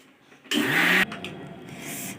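A home mixer grinder whirs loudly for a short burst while blending a watery spice paste, then cuts off into a quieter hum of the room.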